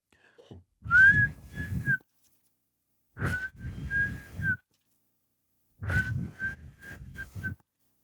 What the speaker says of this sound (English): I gave a X number of quick whistling bursts